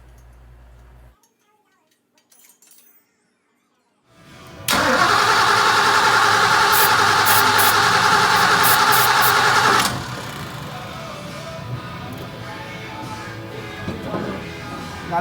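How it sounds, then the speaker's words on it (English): A 1965 Ford Mustang's freshly installed 289 V8 with a break-in cam cranks over after a quiet stretch, then runs loud and steady for several seconds before settling to a lower, rougher drone. "turning over the motor."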